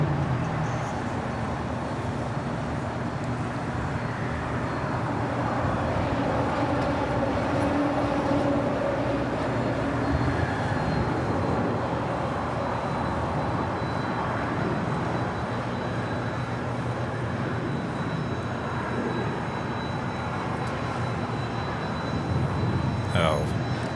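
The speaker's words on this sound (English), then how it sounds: "It's United Airlines Flight 230 coming in from London and the 787-9 Dreamliner" A United Airlines Boeing 787-9 Dreamliner arrives at LAX from London, its jet engines making a loud, steady, broadband roar that holds for the full stretch without a break.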